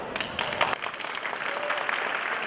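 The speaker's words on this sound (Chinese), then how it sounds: "热烈的掌声" A crowd at the opening of a school earthquake-resistance building competition claps warmly and steadily, close and dense applause with a few sharper individual claps at the start and no talking.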